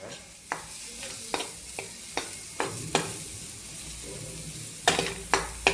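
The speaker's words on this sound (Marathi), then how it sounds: "एकदा परतून घेतो आणि ॲट लास्ट कोथिंबीर" Tomato chutney with salt and coriander stir-fried in a pan, a continuous sizzle broken by about a dozen sharp spatula scrapes and taps against the metal at uneven intervals, close and fairly loud, with no voices.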